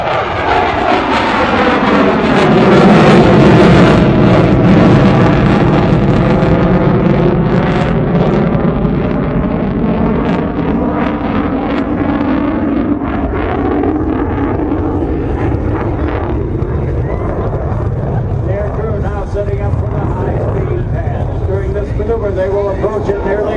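An F/A-18F Super Hornet roars through a dirty roll at an airshow, gear retracting, a loud, sustained jet-engine rumble with a sweeping Doppler pitch shift as it passes, with an announcer talking over it.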